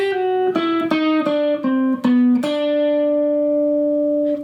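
A clean electric guitar plays a short descending run of single notes in a jazzy phrase, ending on a sustained ringing note.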